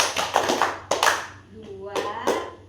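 Schoolchildren in a classroom clapping hands on cue, a few quick bursts of sharp claps with brief gaps, mixed with children's voices chanting and speaking close by.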